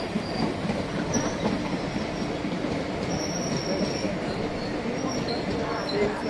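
An ALCO diesel locomotive hauling a passenger train arrives at Thrissur Junction, with continuous close rumbling, rolling wheels and brief high metallic wheel squeals over steady rail noise; voices are faintly present.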